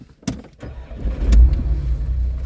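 A salvage auction car's engine cranks briefly, then catches and settles into a low, steady idle, heard close up with no talking.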